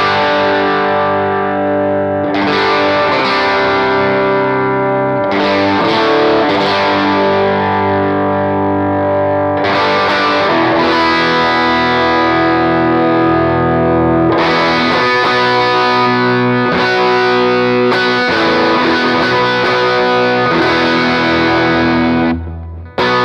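Electric guitar playing big, sustained, mid-heavy chords through a Chase Bliss Automatone Preamp MKII overdrive, thick and saturated, with several strummed chord changes ringing out loud and close with no talk.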